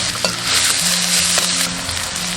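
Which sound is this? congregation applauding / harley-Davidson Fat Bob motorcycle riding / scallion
scallion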